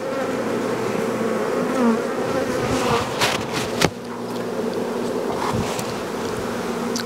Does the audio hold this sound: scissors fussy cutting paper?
no